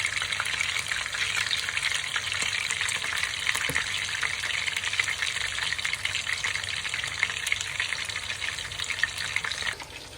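Tomatoes fry in a grill pan beside chapli kebabs, giving a continuous, even crackling sizzle close by for the whole stretch, with no talking.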